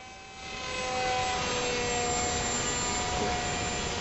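A Sky Surfer RC model airplane flies overhead, its electric motor giving a steady, high whine that swells in the first second and then holds constant, with no talking.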